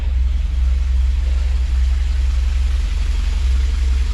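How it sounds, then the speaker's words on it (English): A car engine fitted with a Chinese aluminium radiator and an electric fan runs at idle, a steady loud low rumble with even pulsing, close up and continuous with no talk. "So started the engine up."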